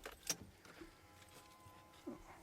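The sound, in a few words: car keys taken out of the ignition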